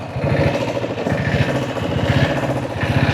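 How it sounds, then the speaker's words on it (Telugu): A diesel motorcycle engine runs steadily nearby, a low, rapid thumping rhythm with no voices. "డీజిల్ డీజిల్ ఇంజిన్ మీద రైడ్"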